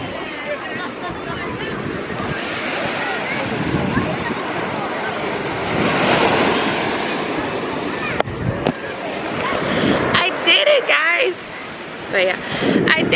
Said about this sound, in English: Look at the waves just from start.